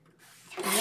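Paper being cut for a handmade card makes a short scraping swish that starts faint and swells louder toward the end.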